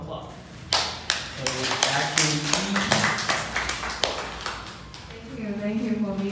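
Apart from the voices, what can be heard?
round of applause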